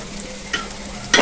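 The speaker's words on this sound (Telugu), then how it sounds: "వేసుకున్నాక ఒకసారి కలుపుకోవాలి కలుపుకొని మూత పెట్టాలి" Chicken biryani being mixed in a pot: two brief scraping stirs rise over a low, constant sizzle, close and clear, with no voices.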